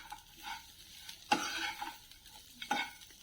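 Finely chopped curry leaves dropped into frying bitter gourd pieces coated in spice powders, giving a soft sizzle with two sharp stirring scrapes of a spoon against the pan, close and fairly quiet.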